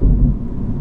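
Low, rumbling road noise inside a 2021 Mini electric car with tight sporty suspension, a dense continuous boom heavy in the low end, heard briefly and fairly loud with no talk.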